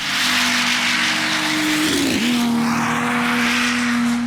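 Late model Mustangs and other muscle cars launch side by side at a Cootamundra drag strip, a loud sustained engine roar with a sharp pitch dip as they leave the line, then a continuing wail as they pull away.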